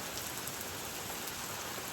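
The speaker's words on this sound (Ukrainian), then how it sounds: "Злива чи буря, не знаю." Heavy rain shower pours down outdoors around a home weather station, a dense, steady, loud hiss of drops hitting surfaces with no voices.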